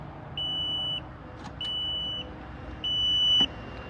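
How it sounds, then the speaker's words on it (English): Audible safety alarm on a Chrysler Town and Country power lift gate, sounding three sharp electronic beeps of about half a second each, evenly spaced over a quiet background with faint clicks. "It does have that audible alarm for safety."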